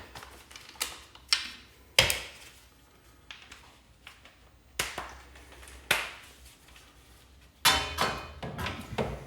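Socket wrench and a shallow socket worked on the strut mount nut of a 1997 BMW E36 M3, sharp metallic clicks and clanks in irregular bursts with pauses between, close and fairly loud, no talking.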